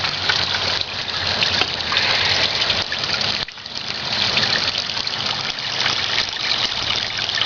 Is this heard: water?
yes